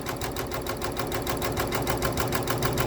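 An embroidery machine stitching the first row of a quilt-in-the-hoop design in gold thread, with the fabric held in a magnetic hoop: a fast, even mechanical chatter of needle strokes, close and steady with no pauses.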